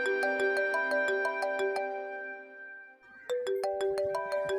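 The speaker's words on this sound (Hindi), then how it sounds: "नायला का फोन है, सुबह से 10 बार मुझे भी फोन कर चुकी है।" A mobile phone ringtone plays a repeating melodic tone pattern, loud and close, pausing briefly before ringing again, with no talking over it.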